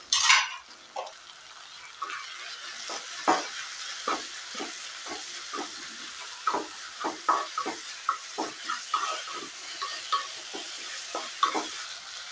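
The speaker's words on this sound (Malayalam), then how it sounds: "നമുക്കതിലേക്ക് വെളുത്തുള്ളി ഇഞ്ചി അരച്ചിട്ട് കൊടുക്കാം" Garlic and ginger paste frying in a pan for a Kerala chicken dish, a steady sizzle broken by repeated sharp scrapes and clinks of a spoon against the pan, close and fairly loud, no talking.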